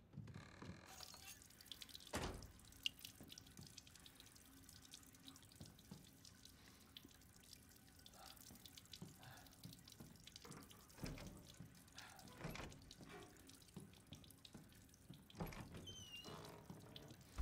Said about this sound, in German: Da ist ein Wasserhahn.